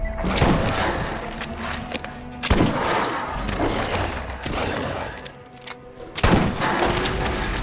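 Pistol fire in the shooter game Borderlands on Nintendo Switch: loud, punchy shots with crackling electric effects, bursts recurring across the stretch.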